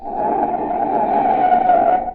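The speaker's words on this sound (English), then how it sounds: "That's the sound of a car as a desperate motorist has jammed on the brakes in an emergency." A car's tires give a sustained, high screech under emergency braking, holding steady for about two seconds, loud and close, rising slightly in intensity before cutting off abruptly.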